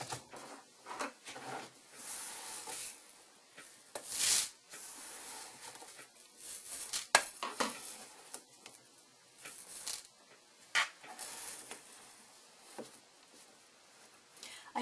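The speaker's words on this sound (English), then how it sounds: "I'll use my rhinestone scoop to pick those up. And I'm going to put those back in our container." Small rhinestones are scooped up and poured back into a container, giving intermittent light rattling and pattering bursts with soft scraping, close and fairly quiet, no talk.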